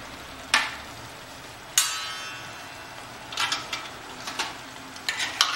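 Chicken bharta with added stock being stirred in a pan, with a faint background simmer broken by a few sharp utensil scrapes and clinks against the metal, then a cluster of quicker stirring strokes near the end.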